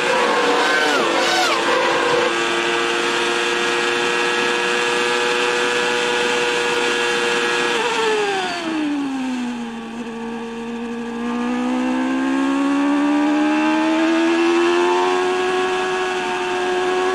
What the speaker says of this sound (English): The revs are dropping right down. That looks exactly as if Schumacher is, in fact, stuck in fifth gear